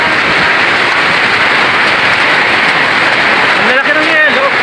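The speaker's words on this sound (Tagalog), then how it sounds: "Ayan guys, may kasamang yelo yung ulan" Heavy tropical downpour mixed with hailstones, a dense, steady roar of water and ice pelting surfaces, loud and continuous, with a voice talking briefly over it near the end.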